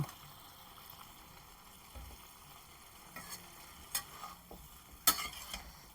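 Pallipalayam chicken is stirred in a pan, a low sizzle under intermittent scraping and clacking of a spoon that grows busier toward the end, quiet and close, with no speech.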